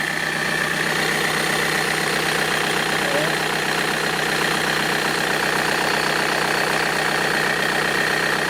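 A car engine idles steadily nearby with a constant low rumble and faint ticking, running without pause throughout.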